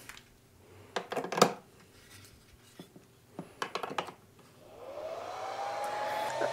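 A P10X2 battery charger's cooling fan spins up on its low setting after it is connected to a 12 volt battery: a few clicks and handling knocks first, then a steady rising whir that holds to the end.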